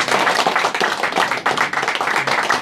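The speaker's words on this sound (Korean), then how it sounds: "다 같이 박수를 한번 보내드리죠" Dense audience applause at a Korean elders' council forum, many hands clapping together in a steady, loud wash that holds for nearly three seconds without fading.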